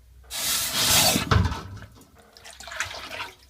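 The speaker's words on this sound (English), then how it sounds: "then quench it in here in the cold water" A hot hand-raised silver goblet is plunged into cold water, giving a sudden gushing, bubbling hiss that surges, then fades into quieter sloshing and trickling.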